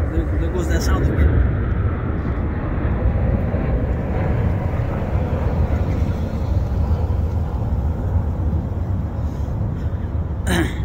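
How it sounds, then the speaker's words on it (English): Steady, loud broadband roar of an airplane flying overhead, continuous and unchanging for about eleven seconds, heard outdoors with no speech. "Airplanes intend to be pretty loud around here."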